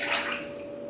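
Cream and whole milk pour into a high-sided pan in a short, steady liquid stream with a brief splashing rush at the start, alone and close.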